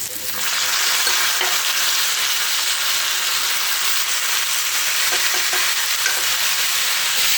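Boiled chana dal and matar dal go into hot oil with frying green chillies, giving a loud, steady sizzle with stirring scrapes that lasts throughout, and no talking.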